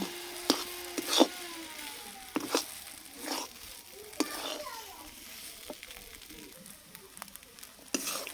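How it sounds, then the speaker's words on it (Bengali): Semolina halwa being stirred in a pan until dry gives quiet, irregular scrapes and clicks of a spoon against the pan with a faint sizzle between strokes, close and soft, without talk. "নেড়ে নেড়ে একদম শুকিয়ে দেবো"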